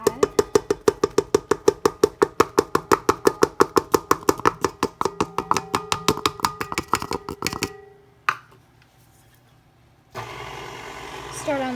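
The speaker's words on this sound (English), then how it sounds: "So we're putting in 1 and we're going to mix that." Powdered sugar is beaten into macaron batter with a mixer, which whirs in a rapid, rhythmic thumping pattern, then stops, followed by a quieter stretch and a faint resumed hum.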